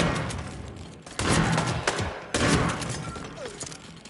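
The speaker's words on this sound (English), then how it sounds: "That was a gunshot!" Gunfire in the VR stealth game Hitman: two sharp, loud shots about a second apart cut through the rumbling ambience of the game world, each leaving a short echoing tail.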